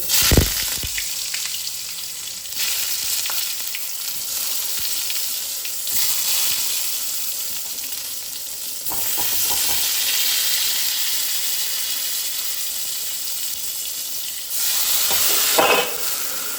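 Eggplant frying in a little oil in a pan: a loud, dense, hissing sizzle running throughout, swelling at moments, with occasional clunks and a sharp knock at the start and near the end.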